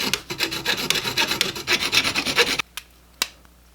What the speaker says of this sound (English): So now I'm just going to cut right across the top here